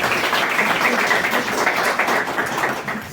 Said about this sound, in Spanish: Gilberto Morales, otro aplauso.